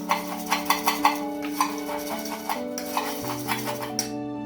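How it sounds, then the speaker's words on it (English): Ingredients for Bihari bhuja, including roasted corn, stirred together in a bowl, giving a rhythmic series of light scraping and clinking strokes, close and fairly loud, with background music underneath. "Take these ingredients and mix it real well."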